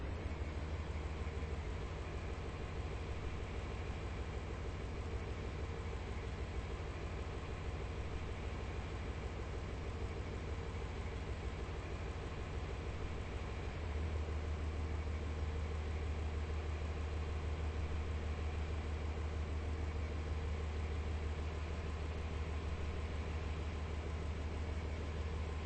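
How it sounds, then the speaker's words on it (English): A train arrives at platform 2 at Stepford Central, a faint steady low rumble and hum that deepens and grows heavier about halfway through, with no voices. "The train now approaching platform 2 terminates here."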